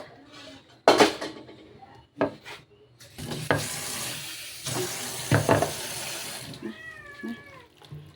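Water poured from a tap into freshly cooked chicken food for cats and dogs, heard as splashing and stirring bursts between quiet gaps, with a cat meowing near the end.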